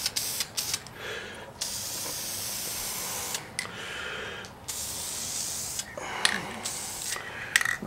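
Spray paint laying a light tack coat on 1985 Honda Gyro parts, several close hissing bursts of a second or two each separated by short pauses.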